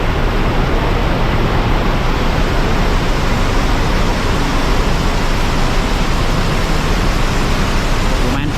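Heavy rain pours steadily at a bus shelter near Argosari terminal, a loud, dense, unbroken hiss filling the scene with no distinct voices.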